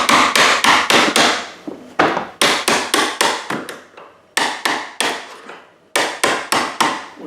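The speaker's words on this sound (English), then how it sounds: "We'll just remove the upper and the lower hinge pins." Sharp hammer blows knocking the upper and lower hinge pins out of a bathroom door, struck in quick bursts of four to six hits with brief pauses, loud and close with no talk.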